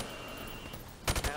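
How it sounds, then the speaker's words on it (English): A rifle fired from the hip in Call of Duty Modern Warfare Remastered gives a quick cluster of two or three sharp, close shots right at the end, after a quiet stretch of background game noise. "Shoot targets from the hip."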